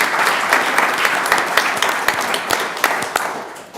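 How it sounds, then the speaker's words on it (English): An audience at a school board meeting claps for a tennis coach, a dense, steady round of many hands with sharp individual claps standing out near the front. "So let's clap for him."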